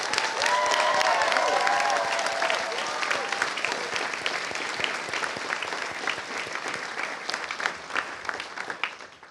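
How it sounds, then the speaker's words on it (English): Sustained applause from a large audience at a school arts festival showcase, dense clapping that stays loud and gradually thins slightly toward the end. "So let's give your teachers a huge round of applause"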